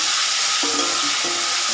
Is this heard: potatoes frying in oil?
yes